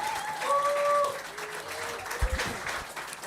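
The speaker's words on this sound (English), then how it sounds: "Big round of applause for Glenn Grimwood" Applause for a guest at a live comedy writers' show during the Fringe World festival in Perth, a short burst of clapping from a small audience mixed with a few voices and whoops.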